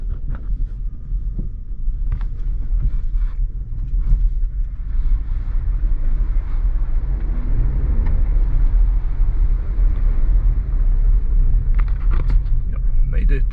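An ordinary two-wheel-drive rental car, not a four-wheel drive, rolls through a longer shallow water crossing, giving a loud steady rumble of engine and tyres with creaks and splashing churn throughout, heard from inside the cabin.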